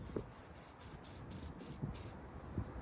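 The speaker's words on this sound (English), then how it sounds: "I'm just gonna spray it with a little fluid film here, just on top" Aerosol can of Fluid Film sprayed onto the top of car battery terminals, a series of short, regular hissing bursts close to the microphone with faint handling clicks between them.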